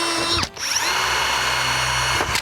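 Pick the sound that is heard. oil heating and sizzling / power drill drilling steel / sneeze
power drill drilling steel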